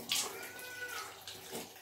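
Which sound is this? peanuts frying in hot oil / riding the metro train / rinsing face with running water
rinsing face with running water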